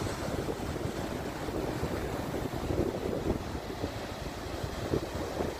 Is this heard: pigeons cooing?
no